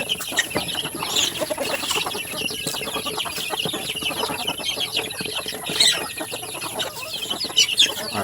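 Layer hens in a lit coop cluck and squawk continuously at feeding time, a dense overlapping chorus with occasional louder calls and a faint flutter of wings, no talking.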